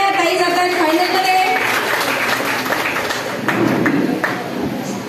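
Audience applause at a Paithani saree game show hosted by P.N. Gadgil jewellers, steady clapping crowd for about five seconds with some voices mixed in.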